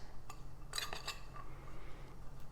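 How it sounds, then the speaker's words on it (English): A utensil stirs chili powder into a loaded mashed potato bowl, making a few quick, close clinks and scrapes against the dish in a brief burst, followed by quiet. "So we're just gonna sprinkle that on, stir it around."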